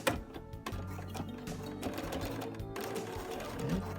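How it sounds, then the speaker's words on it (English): A sewing machine runs a steady stay-stitch about half an inch from the edge of a spring coat front, a close, continuous rapid mechanical whir and clatter with no speech. "I'm just going to stay stitch that around half an inch"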